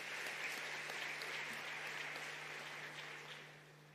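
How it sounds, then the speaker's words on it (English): An audience at a conference plenary session applauds, a steady patter of many clapping hands that tapers slightly toward the end. "Let us give them a round of applause,"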